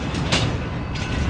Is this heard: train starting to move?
yes